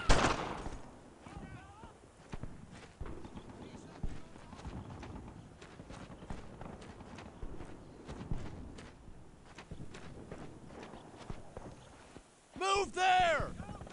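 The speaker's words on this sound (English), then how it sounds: "Suppressing fire!" Rapid suppressing gunfire in the World War II shooter Earned in Blood, sharp rifle and machine-gun cracks in irregular bursts, near and moderately loud, mixed with shouted soldier voices.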